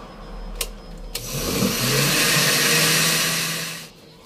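A blender motor spins up and grinds a chicken sauce with jalapeño and tomato, a steady loud whirring drone lasting a few seconds before cutting off, preceded by a couple of sharp clicks.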